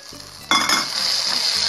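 Macaroni fries in a pan. After a quiet clink, a sudden loud sizzle starts and keeps hissing steadily, with light stirring and utensil scrapes mixed in.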